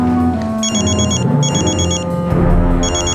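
A telephone rings in a Crime Patrol TV drama scene, giving three loud bursts of trilling electronic ringing in a regular rhythm over a steady bed of background music.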